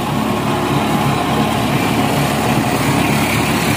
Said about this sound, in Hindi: ट्रैक्टर आराम से चल रहा है